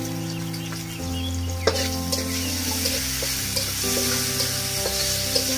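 Basa fish fries in a pan with a loud, continuous sizzle and crackle, with occasional spatters and clinks over a low steady hum.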